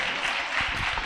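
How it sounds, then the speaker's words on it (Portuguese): Applause from a camp audience keeps up as a steady, dense patter of many hands for just over a second, moderately distant and fairly soft. "Salva de palmas para esse cara"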